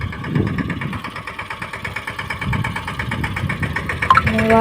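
A tractor engine idles with a steady, low mechanical chug throughout, holding a constant rhythmic throb with slight knocking, fairly close and moderately loud, with no voices over it.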